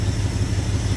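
1972 Dodge D200 truck engine idling smoothly after carburetor work, a steady low rumbling throb with even pulses, close and fairly loud, heard alone for about a second.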